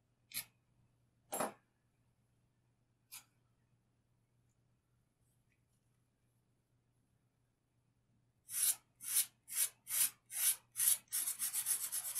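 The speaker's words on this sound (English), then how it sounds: "I'm going to use this abo file. It's made out of natural materials from this earth, so it's abo." Stone filed by hand with an abo file made of natural materials during flintknapping: a few isolated rasping strokes, then a quick run of rhythmic scrapes growing into continuous rubbing, close and quiet.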